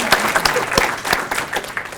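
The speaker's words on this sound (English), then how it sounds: "Round of applause." Audience applause at a Dragon*Con 2017 convention panel on Indiana Jones history, a crowd clapping close and steadily for about two seconds, with no talk over it.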